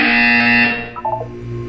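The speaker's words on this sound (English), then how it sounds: "You will hear a buzzer." A loud, sustained electronic buzzer tone in the game Portal 2 holds for under a second, then drops and fades into a softer lingering hum.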